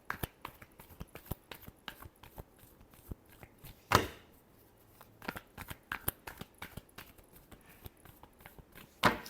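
Tarot cards being shuffled by hand, a run of faint, rapid riffling and tapping sounds with a few sharper slaps, close and quiet, no speech.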